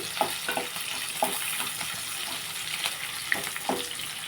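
Chopped onion frying in a pan for a curry, with a steady sizzle and crackle and intermittent stirring scrapes and taps against the pan.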